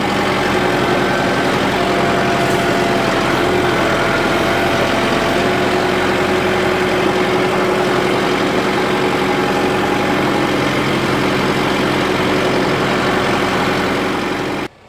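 A Kubota M6060 tractor engine runs steadily, a loud continuous diesel drone with a constant low hum and whining tones, close by and alone until it cuts off abruptly at the end.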